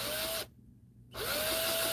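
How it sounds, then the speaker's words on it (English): A battery drill boring a hole through a figure whines steadily, cuts out for a moment, then spins up and runs again, close and fairly loud. "Trying to drill a hole through this, and my drill is dying."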